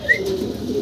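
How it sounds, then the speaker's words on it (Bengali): A pair of Damascene pigeons with red eyes coos softly nearby in a short, low burst, with a faint higher chirp near the start. "সম্মানিত দর্শক, আমরা দেখতেছি ভাইয়ের কাছে আছে এখানে এক জোড়া দামাসিন কবুতর"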